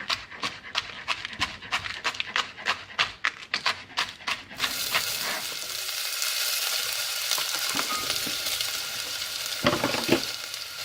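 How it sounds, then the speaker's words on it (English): Asparagus sautéing in a little olive oil sets up a steady, bright sizzle from about the midpoint onward, after a dog's rhythmic close panting fills the opening seconds. "We are now gonna saute our asparagus in a little olive oil"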